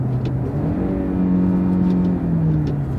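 A new car's engine downshifting quickly in manual shift mode, a steady revving drone whose pitch slides and steps as the gears change, heard from inside the cabin with no talk.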